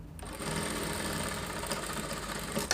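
A sewing machine stitches a fabric side seam with a steady, fast mechanical whir at close range, runs for over two seconds, then stops with a small clunk at the end.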